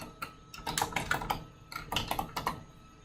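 Computer keyboard keystrokes tap out entries into a database search field in quick irregular bursts with brief pauses, close and clear with no voices.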